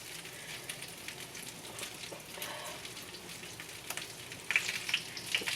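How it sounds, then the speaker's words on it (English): Meatballs dropped into spaghetti sauce in a pan set off a steady close sizzle and bubbling, with a few soft clatters and a brighter sputtering burst near the end; nobody speaks. "So now what we're going to do is we're going to add the meatballs."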